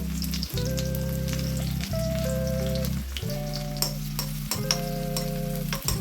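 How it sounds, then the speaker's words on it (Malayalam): Thin round slices of small shallots fry in hot ghee in a pan for a stew, giving a steady close sizzle with a constant low hum beneath it throughout. "ഞാനിവിടെ നെയ്യാണ് എടുക്കുന്നത്. നെയ്യ് ചൂടായിട്ടുണ്ട്."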